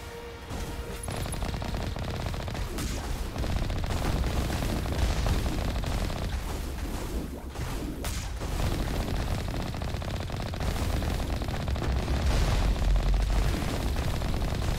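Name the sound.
turret gunfire in video game Mass Effect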